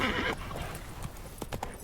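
Horse in The Witcher 3 whinnying briefly, then hooves clip-clopping in a quick irregular patter, close and fairly loud, with no talk over it.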